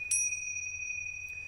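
Bright bell-like ding with sustained high ringing tones, struck once near the start with a faint second strike near the end, fairly quiet over a low hum.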